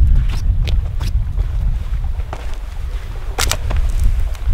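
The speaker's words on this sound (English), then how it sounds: "the wind changed direction." Wind sweeps across an open lake during a trout fishing outing, making a steady, gusty low rumble with buffeting on the microphone and a few faint knocks, with no voices.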